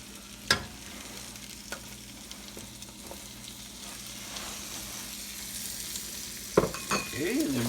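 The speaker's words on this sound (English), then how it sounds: "we're just going to saute these mushrooms for a bit until they get caramelized" Sliced cremini mushrooms sautéing in a pan, a soft continuous sizzle broken by a few sharp utensil clacks and scraping stirs, fairly quiet and close, no voices.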